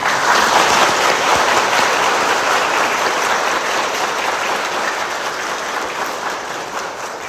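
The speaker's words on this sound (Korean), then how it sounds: "이 친구들 위해서 박수 쳐주세요" A Catholic parish congregation at Noeun-dong church in Daejeon applauds the first communion children, a dense, sustained burst of many hands clapping that fills the space throughout and eases off only slightly toward the end.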